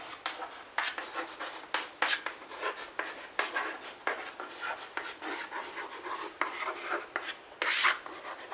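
Pen strokes scratch across paper while a trigonometry problem is worked out in a maths lesson, giving a steady run of close, soft scraping rasps with brief pauses and no talking.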